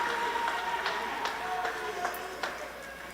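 A crowd applauds at the Asia Rugby U18 Sevens 2023 tournament before a girls' cup final. The clapping is steady and diffuse, heard from a distance, with a faint tonal hum beneath it.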